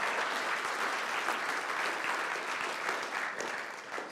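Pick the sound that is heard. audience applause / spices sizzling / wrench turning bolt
audience applause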